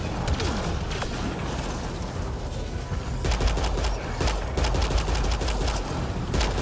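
Dense, continuous sci-fi gunfire in Mass Effect Andromeda combat, rapid overlapping shots and mechanical clatter running loudly throughout with sharper bursts in the second half.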